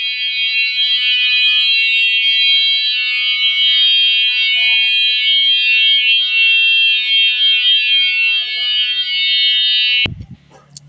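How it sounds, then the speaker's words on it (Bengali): A loud, steady electronic alarm from a motion-sensor anti-theft device at a small cattle farm rings continuously for about ten seconds, then cuts off abruptly with a brief clunk. "এই পর্যন্ত আসা মাত্রই এলাম বাজার শুরু হয়ে গেছে"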